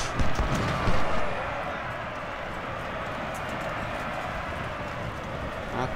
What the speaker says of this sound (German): Ah, Kavallerie.